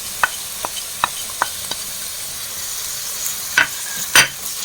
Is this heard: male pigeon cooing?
no